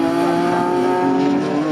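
Class A Caterham race cars at Snetterton circuit roar past in a loud, steady engine howl that fills the whole stretch, with a hint of tyre noise and no talk over it.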